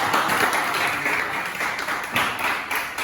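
A crowd claps steadily in a dense, continuous patter of applause, fairly close and sustained throughout.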